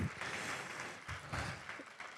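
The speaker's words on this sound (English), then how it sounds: "Go ahead and give an applause." Audience applause at a fall gala for a children's charity, a fairly quiet, steady patter of clapping from a crowd with a few louder swells, heard from a distance.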